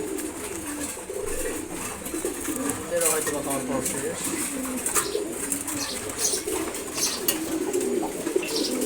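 Racer pigeons coo softly after their morning feeding, low burbling calls repeating over a steady background while a person talks nearby.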